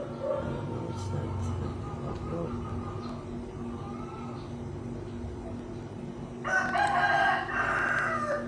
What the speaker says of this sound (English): Do you have chickens in your house?